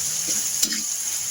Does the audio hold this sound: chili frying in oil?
yes